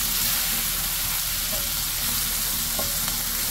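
Broccoli rabe drops into a hot pan of oil on medium heat, with the garlic just removed, and sets off a steady, even sizzle that holds close and loud the whole time, with no talking.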